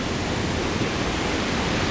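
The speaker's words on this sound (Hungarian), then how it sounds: "itt ömlik alá a víz" Water thunders down at Niagara Falls, a loud, steady, broadband roar with no variation, heard up close and alone.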